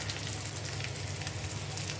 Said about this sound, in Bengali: মশলাটাকে ভালো করে কষাতে থাকবো।